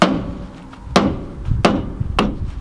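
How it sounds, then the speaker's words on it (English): A hammer strikes a metal tractor part on a farm, four sharp, ringing blows spaced roughly half a second apart, close and fairly loud with no talking. "Oh, your hammer? What are you gonna hit?"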